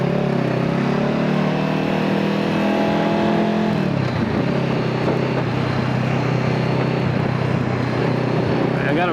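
Honda CBR 500R motorcycle accelerating through slow traffic, engine note rising steadily and loud and close, with a shift in pitch midway as the bike pulls ahead of a pack of cars.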